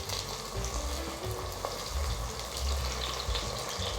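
Tofu skin (dou bao), flipped golden side up, frying in a little oil in an electric inner pot, giving a steady low crackling sizzle with faint bubbling throughout, no voices.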